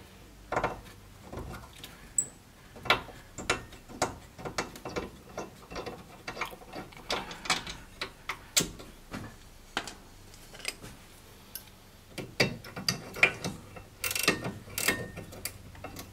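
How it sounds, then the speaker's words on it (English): Ratchet wrench on a bolt during a rear brake job on a 9th generation 2011–2015 Honda Civic: irregular runs of close, clicking pawl ticks with short pauses between strokes, fairly quiet and without talk. "the problem with these ratchet wrenches is that you can get them on a bolt, but getting the bolt out of them is not that easy sometimes"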